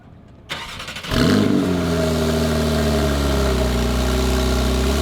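Porsche 911 Carrera T flat-six engine cranking briefly, catching with a loud bark, then settling into a steady, close, rumbling idle with no talk over it.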